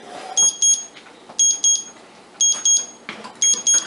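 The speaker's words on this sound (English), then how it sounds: "And the timer is done." A kitchen timer going off, sharp high electronic beeps in quick pairs repeating about once a second, loud and close, with quieter kitchen background between bursts.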